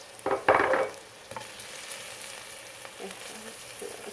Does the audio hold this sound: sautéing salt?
yes